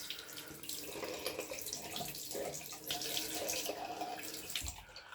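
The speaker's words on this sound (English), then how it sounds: "So I'll just quickly rinse." Running tap water splashes steadily into a sink while a straight razor from a Gold Krone set is rinsed beneath it, a continuous close hiss with small shifts as the blade moves through the stream.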